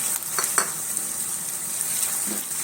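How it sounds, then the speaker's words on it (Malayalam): Tomato goes into a hot frying pan while a home-style chicken roast cooks, giving a steady hissing sizzle with a few light stirring scrapes near the start, close and even, with no voices. "ഇതിലേക്ക് നമുക്ക് ടൊമാറ്റോ ഇട്ട് കൊടുക്കാം."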